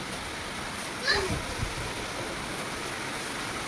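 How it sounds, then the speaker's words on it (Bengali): Heavy rain pours down steadily outside a village shop, a dense, even hiss that fills the whole clip with only slight swells in intensity. "আমাদের দিকে প্রচুর বৃষ্টি পড়ছে এখন"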